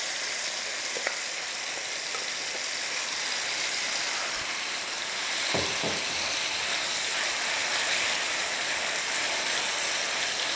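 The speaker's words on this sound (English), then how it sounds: "The oil is glistening. I'm going to put the pork in." Pork frying in glistening hot oil gives a steady, loud, broadband sizzle that runs unbroken throughout, with a few faint clinks of a utensil in the pan and no speech.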